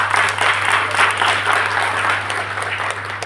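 An audience applauds during a Hindi business presentation, dense continuous clapping at a steady loud level over a low electrical hum, alone without talk.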